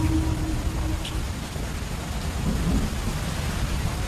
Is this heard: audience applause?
no